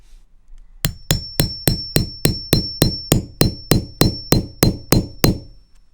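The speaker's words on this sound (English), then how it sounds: "since I'm hammering onto carpet, it doesn't work perfectly" A grommet setting tool is hammered over carpet while a van's bed is being built: fourteen sharp, evenly spaced metallic strikes ring out close and loud, each with a brief clinking ring, and no one speaks.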